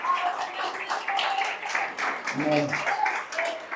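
Church congregation applauding during a Sunday service, a sustained round of many people clapping with voices calling out and one person speaking over it.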